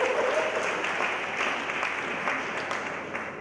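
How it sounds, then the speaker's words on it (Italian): Audience applause of encouragement at a singing contest, dense steady clapping from a crowd close by, lasting a few seconds with a faint voice briefly audible at the start. "un applauso di incoraggiamento per Arianna"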